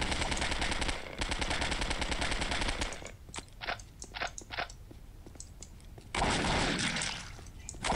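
Machine gun fire in Postal 2 rattles in a fast, dense burst for about three seconds, then breaks into scattered single shots and clicks before another loud sustained burst.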